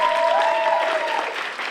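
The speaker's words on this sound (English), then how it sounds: "Let's give a big round of applause for Katie Burke." Guests at a leadership studies minor mixer applaud, a brief wash of steady clapping from a room of people with a faint tone running through it.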